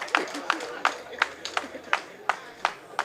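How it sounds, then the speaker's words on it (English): An audience at a political gathering claps in a steady, even rhythm, with about eight sharp, distinct claps at a regular beat and moderately close. "Come on, clap."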